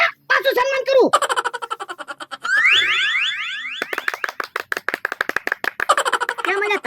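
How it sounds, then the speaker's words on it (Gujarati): Quick rhythmic clapping in a Gujarati village comedy sketch comes in bursts, mixed with warbling synthetic sound effects and voices. "કેમ મને તાળીઓ પાડો?"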